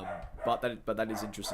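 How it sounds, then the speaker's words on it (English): A pet dog barks and yips in short bursts close to the microphone, mixed in with someone talking at the same time. "That's my dog."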